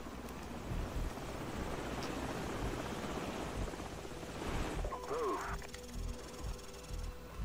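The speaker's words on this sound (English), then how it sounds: "Enemy helicopters." Enemy helicopters in the video game Call of Duty 4 drone with a dense, steady rotor roar that fills the scene, followed by a short electronic warble over the continuing engine noise.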